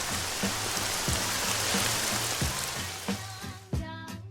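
Steady rain falls on a surface, a dense hiss of drops throughout, with a repeating low musical pattern underneath and a few soft thumps near the end.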